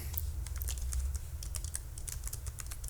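Quick, light keystrokes on a computer keyboard tap out in close, steady bursts over a low background hum, with no talk.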